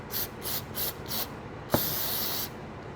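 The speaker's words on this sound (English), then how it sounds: "I sprayed this in the connector and let it dry" Aerosol connector cleaner sprayed into an ABS module connector on a 2013 Jeep Wrangler: four short hissing bursts in quick rhythm, a sharp click, then one longer steady spray, close and fairly loud.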